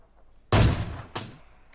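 Gunfire in PUBG Mobile, heard as a loud close shot followed by a second, lighter report about half a second later and a faint distant pop, with no talk.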